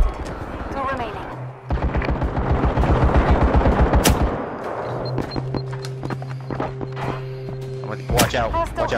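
Rapid automatic gunfire from the VR shooter game Firewall Zero Hour, with a fast, evenly spaced machine-gun burst mid-clip and scattered single shots around it. Players talk over the shooting at times.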